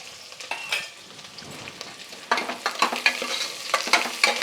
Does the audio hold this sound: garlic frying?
yes